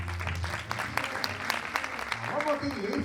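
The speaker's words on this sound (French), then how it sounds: "On peut applaudir" A conference audience applauds with a fairly dense stretch of clapping, while a voice talks over it and music or a tone rises near the end.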